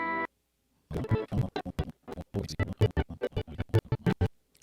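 Choppy reversed samples play from an MPC Live 2 sampler in quick bursts, each swelling and cutting off abruptly, after a brief tone at the start.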